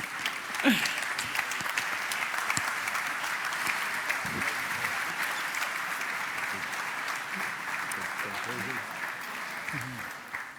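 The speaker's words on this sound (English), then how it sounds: "Ladies and gentlemen, a big round of applause," A crowd claps steadily and continuously at a motorcycle show press launch, a dense wash of applause that never lets up, with faint voices mixed in.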